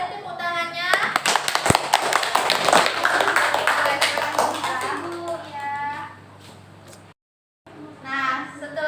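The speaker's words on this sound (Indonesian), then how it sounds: "Beri tepuk tangannya." A classroom of students applauding after a group's trigonometry presentation, a loud burst of scattered hand claps lasting several seconds, then fading out before a brief silence and a voice resuming.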